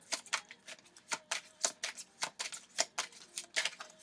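Tarot cards being shuffled by hand, producing a steady run of crisp, papery riffling bursts at a close, moderate level with no talking.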